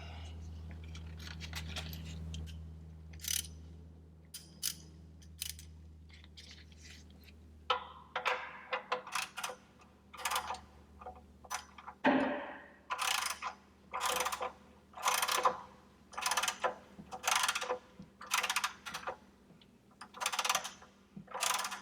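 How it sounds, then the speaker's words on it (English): An oil pan drain bolt on a Ford Mustang GT is threaded back in by hand, then snugged with a ratchet: a run of sharp, close metallic clicks, sparse at first and then in quick regular bursts. "I like to start it by hand just to make sure I don't cross thread anything, and then I'll snug it up."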